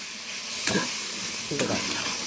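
Egg tomato curry with small omelette pieces simmering in a pan, giving a steady close sizzle and hiss with two brief louder stirring scrapes.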